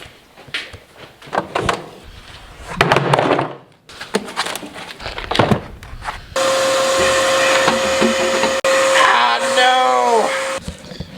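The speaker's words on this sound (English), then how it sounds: "we had to buy a new shop vac" Scattered knocks and clatter give way to a shop vacuum switching on and running loudly with a steady whine, a brief dip near the end.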